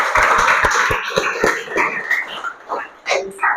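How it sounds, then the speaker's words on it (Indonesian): Classroom of students claps together, a burst of loud, fairly rhythmic hand claps near the microphone that thins into scattered claps and fades. "Oke, tepuk tangan dulu untuk kita semua ya."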